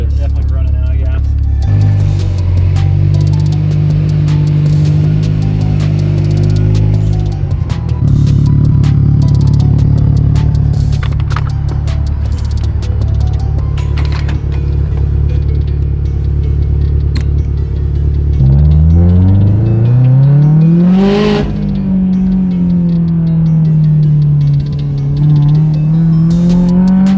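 Subaru STI with a stock motor, driven from the inside with a loud, steady engine drone that climbs in pitch as it accelerates hard through the gears, and a voice occasionally talks over it.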